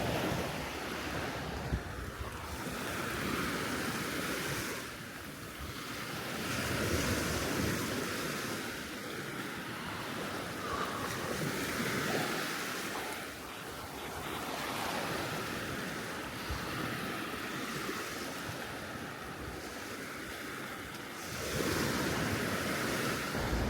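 Ocean waves break on a quiet beach on Koh Kut island, Thailand, a steady rushing surf that swells and recedes in several slow surges, with some wind buffeting the microphone.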